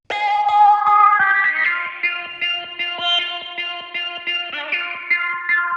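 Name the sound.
electronic music drop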